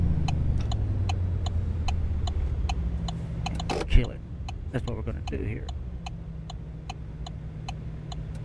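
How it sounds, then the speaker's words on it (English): Truck turn signal in American Truck Simulator, a steady rhythmic clicking of about two ticks per second over a low idling engine hum, with a person talking partway through and a brief bump near the middle. "Turn the blinkers off."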